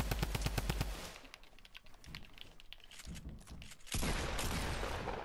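Rapid bursts of automatic gunfire in the Fortnite battle royale video game, a fast rattling volley at the start, then scattered shots and another dense burst, loud and with no talk over it.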